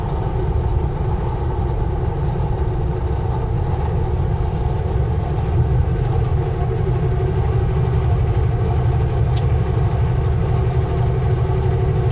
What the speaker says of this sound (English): Train is running up on that top ledge there now.